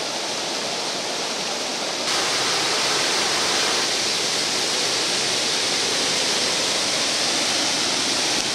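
A waterfall in Elk Lakes Provincial Park roars as a dense, constant wash of rushing water, loud and close, growing slightly stronger partway through with no voices.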